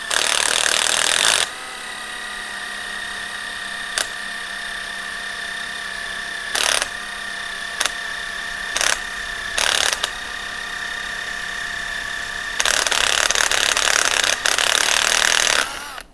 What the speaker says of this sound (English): I've drilled quite a few holes with it.